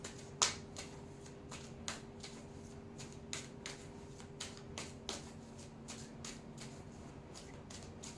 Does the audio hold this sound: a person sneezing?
no